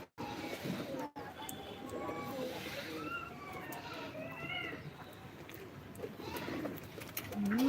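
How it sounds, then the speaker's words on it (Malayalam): Native pigeons coo in soft, repeated warbling phrases, several birds calling at once over a steady murmur of background noise. "നാടൻ പ്രാവ് പോലത്തെ പ്രാവ്"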